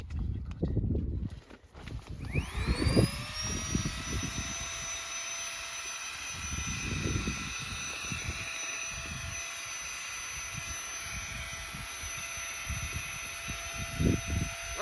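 A small electric pump starts up to inflate an Aksoul sleep mat, its whine rising quickly and then settling into a steady, close, high-pitched hum, with faint talking before and during.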